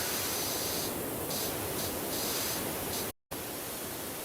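A pressure washer in PowerWash Simulator sprays as a dense, constant hiss with a few slight wavers, cutting out for a moment before resuming just as loud.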